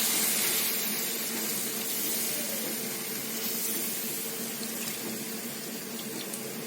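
Marinade poured onto onions and flour in a hot pan, a continuous close hiss and sizzle with a watery splashing texture that slowly eases off.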